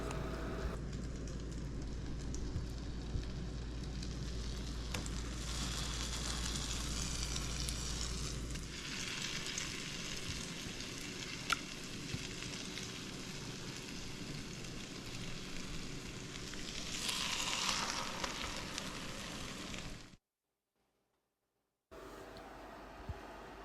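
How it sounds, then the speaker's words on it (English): Custard-soaked bread slices fry in hot butter in an electric skillet, giving a steady low sizzle and crackle that runs nearly unbroken for about twenty seconds before a brief silence. "take it over right to the hot butter in the electric skillet"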